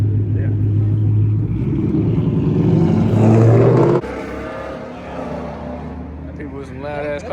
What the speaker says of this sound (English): People with some loud ass cars out here